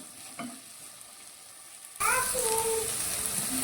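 Okra (bhindi) frying in hot oil for a masala fry, a quiet hiss for two seconds that jumps to a loud, steady sizzle with brief scraping stirs.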